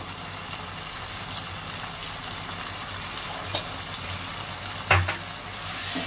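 Chili chicken sizzles in a pan with red chili powder, a steady hiss of frying close by, with a single clatter of a utensil near the end and no talk.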